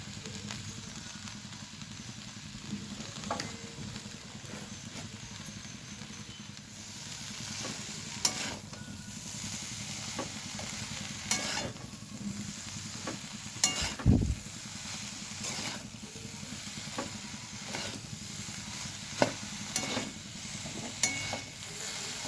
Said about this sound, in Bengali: সব সবজিগুলো দেওয়ার পর আমি ভালোভাবে নাড়াচাড়া করে নিয়েছি।